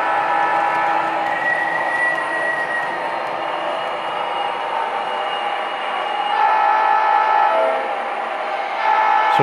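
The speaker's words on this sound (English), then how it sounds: "And the first train is headed to the third tag reader" A model train runs around a layout fitted with RFID tag readers, a continuous mechanical rolling and whirring with faint tonal squeals, steady and close throughout with no voices.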